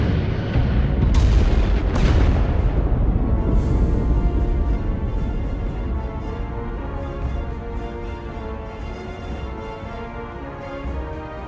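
Starship weapons fire at an enemy vessel in the Star Trek Resurgence video game, with heavy booming blasts near the start that fade into a long rumbling barrage, loud and continuous with no voices.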